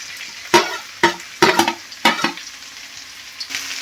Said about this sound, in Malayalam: അപ്പം നമുക്കിതിലേക്ക് ചെറിയ ഉള്ളി കതച്ച് വെച്ചത് ചേർക്കാം